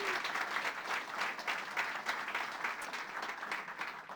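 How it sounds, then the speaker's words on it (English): Steady audience applause at a PechaKucha Night in Burlington, Vermont, a continuous wash of many hands clapping, fairly soft and distant, holding evenly throughout. "give all of these supporters a clap of applause"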